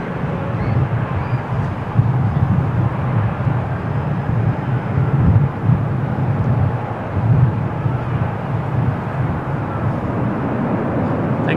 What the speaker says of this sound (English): TAP Portugal, another TAP Portugal landing